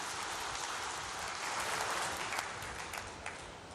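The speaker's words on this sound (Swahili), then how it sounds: "Na katika hili naombeni tujipigie makofi tena mengi sana." An audience applauds steadily, a dense and even patter of many hands clapping, moderately loud and alone without speech.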